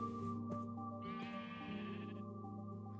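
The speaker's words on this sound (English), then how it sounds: "if you have your sheep and you put this on them, he now becomes a rainbow sheep" A sheep in the Minecraft video game gives one clear bleat that lasts about a second, over a steady background of game music tones.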